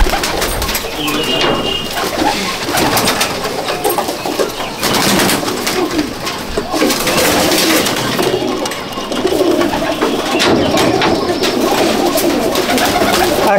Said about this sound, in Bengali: একটা গোল্ডেন পায়রা দেখুন